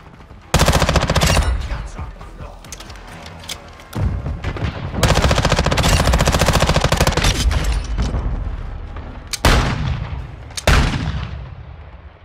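Bursts of automatic MPX submachine gun fire in Modern Warfare 2 crack out loud and close, several rapid strings of shots separated by short pauses, with echoing tails between volleys.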